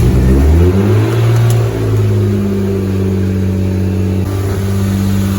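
A BMW E36 M3 engine just started after winter storage, running loud and close at a high idle with a steady low drone that drops slightly and settles, with no talking.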